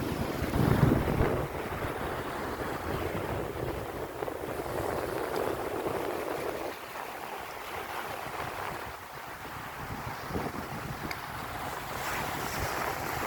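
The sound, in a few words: sea waves at Omaha Beach, Normandy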